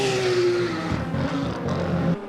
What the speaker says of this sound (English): Still got to love the sound of that flat six.